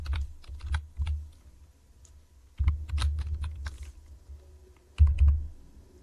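Typing of HTML and CSS code on a computer keyboard, with bursts of close key clicks and clacks at about 0 to 1 s, 2.6 to 3.6 s and 5 s, and quieter gaps between.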